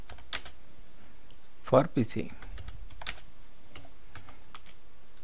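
Keystrokes on a computer keyboard while a search is typed on a PC, a handful of quick clicks with a brief louder cluster, soft and close, alongside a little speech.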